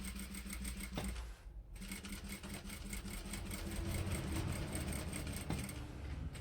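A sewing machine stitches fabric along a 7 mm seam allowance while a handmade cord is being made, giving a steady fast mechanical whir with a brief pause, then continuing without talk.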